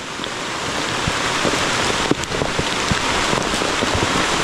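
Sudden heavy rain pours down steadily in a forest, a dense loud hiss of drops on surfaces with a few sharper splashes, no voices.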